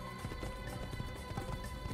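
A horse gallops in the Assassin's Creed video game, its quick, rhythmic hoofbeats thudding moderately over a steady background of game music and ambience.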